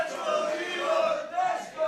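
Indoor crowd at an Attack Pro Wrestling show cheering and chanting for wrestler Nico Angelo, a dense, sustained roar of many voices swelling and dipping in waves.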